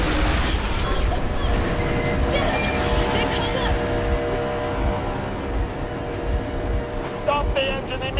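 A vehicle engine drones steadily in the Metro Exodus video game, a loud continuous low rumble close by, easing slightly partway through.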